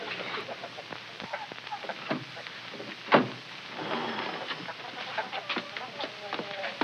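Hens clucking in a plain henhouse, scattered soft clucks and rustling at moderate distance, with one sharper knock partway through and murmured voices in the background.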